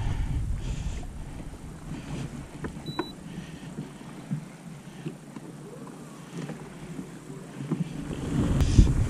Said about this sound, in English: Guys, the wind has gotten up terrible